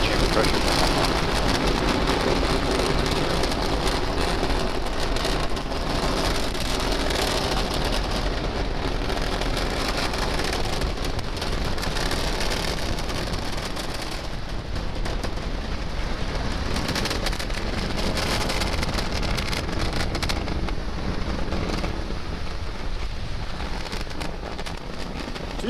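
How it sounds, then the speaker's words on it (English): Falcon 9 Merlin engines roar during the Galileo FOC FM25 and FM27 launch, a dense, continuous crackling rumble that stays loud and unbroken throughout. "We're powering down the Merlin engines to relieve the acceleration as we get ready for the period of maximum dynamic pressure."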